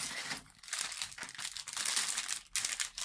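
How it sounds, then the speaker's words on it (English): A thin plastic bag that held apples crinkles and rustles as it is handled up close, a steady run of crisp crackling bursts with brief pauses and no speech. "This sort of bag that had apples in it. So plastic bags."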